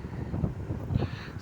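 Southwest monsoon wind blows steadily as a continuous broadband rush with gentle gusts, moderately loud and with no voices.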